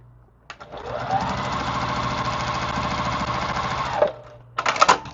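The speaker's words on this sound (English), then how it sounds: "I'm going to flip it over and just sew down that line." A sewing machine stitches a quilt block in one steady run of about three and a half seconds, a fast even whirring rattle up close, then stops and gives a couple of short bursts.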